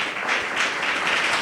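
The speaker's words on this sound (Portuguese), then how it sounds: "Louve ao Senhor com suas palmas." A church congregation claps together in dense, sustained applause during a worship service, heard close and loud in a brief burst with no talking.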